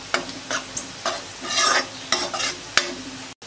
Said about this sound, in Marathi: आता आपण जरा हे मिक्स करून घेऊया हळद